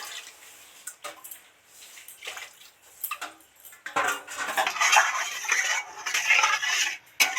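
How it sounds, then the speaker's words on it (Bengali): Water goes into a spiced Bhola fish curry in a pan: light clinks and drips at first, then a louder rushing, hissing spatter as the liquid hits the hot masala, with a few utensil knocks. "অল্প পরিমাণেই জল দিয়ে দিচ্ছি"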